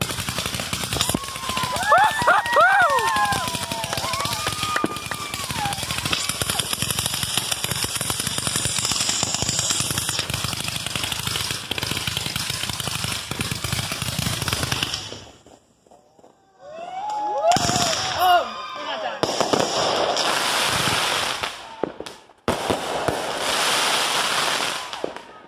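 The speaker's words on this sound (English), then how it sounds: "172 God blessed American firework shots." Rapid volleys of Fourth of July fireworks crackle and pop with whistling rising shots, a dense barrage from a 172-shot display that pauses briefly before more bursts resume.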